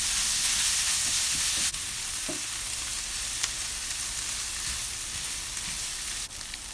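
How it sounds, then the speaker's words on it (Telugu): Onions, green chilli pieces and curry leaves fry in hot oil for a ridge gourd curry, a dense, steady sizzle close up with a few brief stirring knocks and no voices. "కరివేపాకు వేసి వేయించాలండి"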